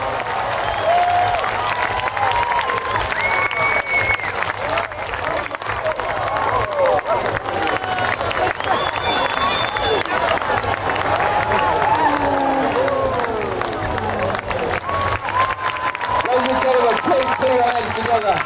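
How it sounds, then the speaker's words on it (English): At a seaside carnival, a large outdoor crowd claps and cheers continuously for the Red Devils parachute display team, with whoops and voices mixed into the sustained applause. "Let's give them an awesome welcome, cheer, shout and scream"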